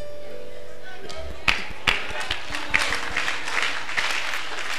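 A church congregation claps for Jesus at a night prayer service, scattered hand claps and thumps rising over background chatter and a low hum, uneven and moderately loud.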